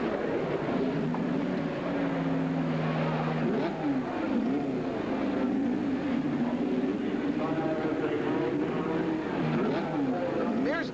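Indy 500 race cars in the 1982 race around lap 184, with Mears and a slower car driven by Herm Johnson, engines droning and shifting pitch throughout, heard under a continuous narrating voice.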